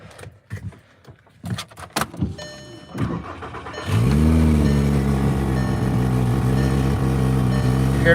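Keys jangle and a few clicks and knocks come first, then a car engine cranks and catches around the midpoint and settles into a steady, slightly uneven idle with a low putting pulse, close and fairly loud to the end.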